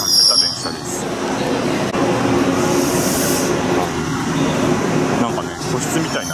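A crowded Kurofune train rumbles steadily as it pulls away from a station platform, with a loud constant roar and hiss close by while a voice talks over it.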